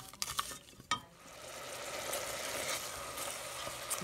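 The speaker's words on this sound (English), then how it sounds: "you just want to melt the butter and you want to cook your vegetables" Vegetables cook in melted butter in a pan, opening with a few utensil knocks and stirring sounds before settling into a steady, moderately quiet sizzle heard close, with no voices.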